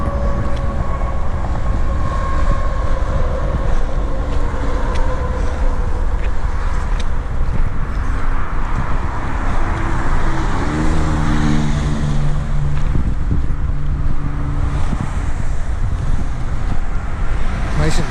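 Wind gusting through an open area of a state forest, a loud constant rushing roar buffeting the microphone, with a low tonal hum rising and falling midway.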